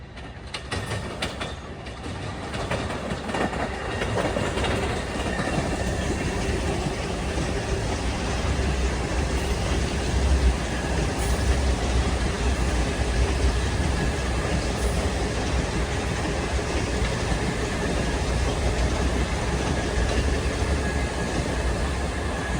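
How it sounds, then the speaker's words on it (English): LIRR M3 commuter train approaching Queens Village station, a loud continuous rumble and wheel roar that holds steady throughout, with faint rail clicks near the start and no voices. "Approaching at 6:20 is train 1511 from Huntington to Penn Station. He's got M3s."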